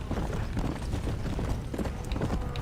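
Hooves of a war horse sprinting across open ground in a video game, a steady rapid clip-clop drumming under continuous game ambience, fairly loud and unbroken.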